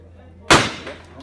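A single sharp gunshot at a shooting range in Medellin, a loud close crack with a short ringing tail, alone.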